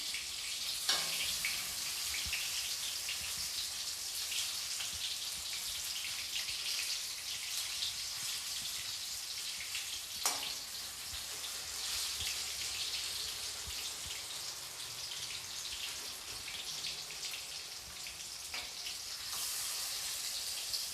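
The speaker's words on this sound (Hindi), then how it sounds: "अब मैं इसे पलटकर दूसरी साइड से भी फ्राई कर लेती" Jackfruit pakoras frying in hot oil in a pan, a steady, even sizzling hiss that continues throughout with a few faint clicks and no talking.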